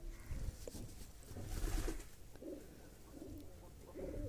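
An agitated brooding pigeon reacts as eggs are placed beneath it, giving low cooing sounds and a burst of wing flapping in the middle, fairly close over a steady background hum.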